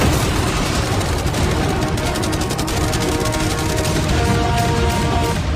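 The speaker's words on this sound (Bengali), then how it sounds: "এই সব একসাথে তোমার ইয়টের দিকে এখন ছোড়া হবে ফায়ার" Machine guns, cannons and fireworks in a video game all open fire at once on a yacht, making a loud, dense, continuous barrage of rapid shots and blasts with no voices over it.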